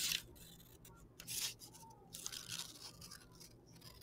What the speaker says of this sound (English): I finished cutting out my top view template